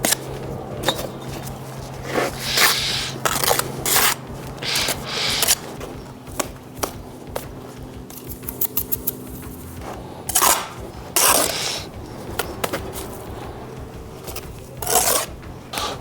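A laid brick is rubbed down with a tool to level it, giving repeated rasping, scraping strokes in short uneven bursts, close and fairly loud with no speech.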